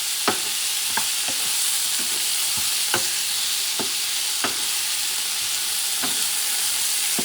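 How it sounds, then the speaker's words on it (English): Gator meat and ingredients for paella being stirred together in a hot pan, with a steady loud sizzle throughout and repeated scraping clicks from the utensil at irregular intervals, close up with no voices. "you can start mixing the meat and everything together"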